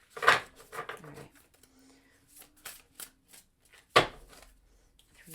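Small hands shuffle a deck of tarot cards in a few quick riffles, with soft card flicks and slaps up close and a sharp snap near the end, quiet between bursts.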